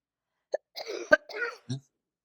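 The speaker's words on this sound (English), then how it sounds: "I'm going to cough." A single short cough amid a few brief throat and breath noises, close and fairly quiet, with no talking.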